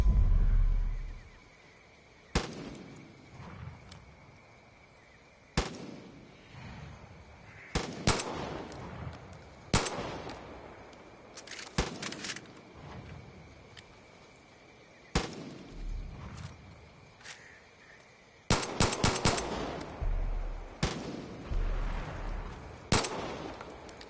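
Gunfire in Far Cry 5 as vultures are shot down: sharp single shots and short bursts crack out at irregular intervals, loud and close, over a quiet background.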